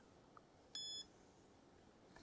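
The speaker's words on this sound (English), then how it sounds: "I'm just going to wait for the beep" A single short electronic beep rings out clearly against a quiet, faintly hissing background.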